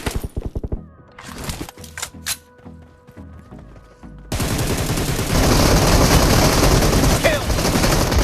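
Rapid bursts of gunfire from a BGMI battle royale match played on a phone, loud and close, with sharp single shots early on giving way to a dense, sustained barrage.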